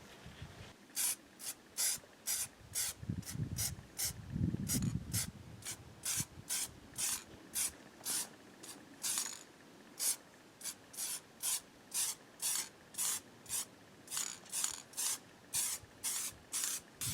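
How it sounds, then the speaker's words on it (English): Repeated short bursts of spray paint hissing from a can onto a taped-up door outdoors on a desert homestead, evenly spaced and close, with brief pauses between sprays. "Got the outside taped up, fixing to spray it."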